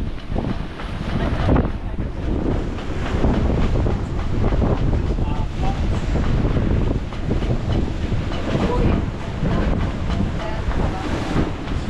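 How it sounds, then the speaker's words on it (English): Strong wind buffets the microphone aboard a sailing boat in rough sea in the Whitsundays, with rushing water and hull noise in a loud, continuous roar that surges briefly near the start. "We just had a nice big wave come over the front."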